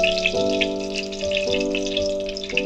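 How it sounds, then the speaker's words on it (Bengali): Whole spices such as cumin, cardamom and garam masala with green chilli sizzle in hot ghee and oil for a doi potol curry, a steady close hiss under a sustained musical tone. "এবার ঘি আর তেলটা একটু গরম হয়ে গেলে আমি এবার ফোড়ন দিয়ে দেবো"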